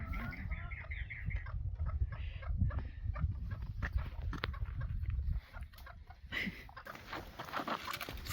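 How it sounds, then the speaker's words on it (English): Chickens cluck and squawk nearby at feeding time amid a steady low rumble of activity, calls repeating over several seconds with shuffling and scratching noises. "Feeding time for the chickens."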